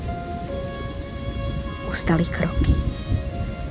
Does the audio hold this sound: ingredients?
no